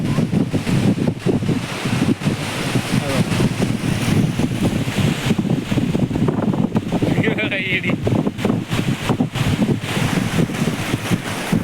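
Sea waves and strong wind on a beach at Harihareshwar, Shrivardhan or Diveagar, with continuous loud wind buffeting the microphone and surf washing in throughout.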